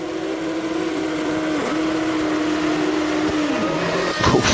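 GP2 race cars scream at full revs at the race start in Belgium, a loud sustained engine note that drops briefly with gear changes before another car flashes past near the end.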